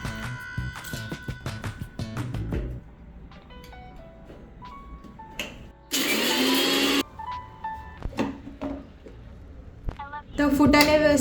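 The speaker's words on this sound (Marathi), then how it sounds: "त्याच्यामुळे आपण फुटाणे आधी दळून घेऊया." An electric grinder whirs loudly for about a second and again near the end, grinding roasted chickpeas into fine powder, with music and clattering in the gaps between bursts.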